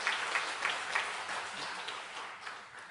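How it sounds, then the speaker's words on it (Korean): Church congregation clapping for the choir during a worship service, soft steady applause of many hands heard at a distance, fairly faint and even throughout. "우리 찬양대 우리 박수 한번 칩시다"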